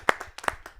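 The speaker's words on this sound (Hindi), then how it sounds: "तालियों से उनका स्वागत करें।" Hands clap in welcome for a poet at a Hindi poetry and comedy gathering, a few sharp separate claps with short gaps, close by, sounding like a small group or one person starting the applause.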